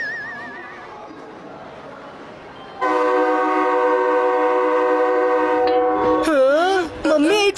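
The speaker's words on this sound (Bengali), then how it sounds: "এই ট্রেনটা তো চলতে শুরু করলো" A cartoon train starting to pull away sounds a long, loud, steady horn-like tone, which shifts into wavering whistle toots near the end, all up front and dominant.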